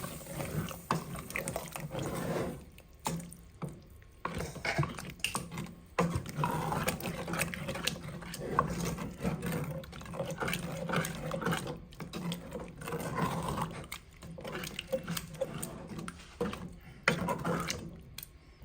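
Creamed macaroni and cheese is stirred in a pot, giving a continuous wet, thick squelching and scraping that rises and falls with brief pauses, close and moderately loud.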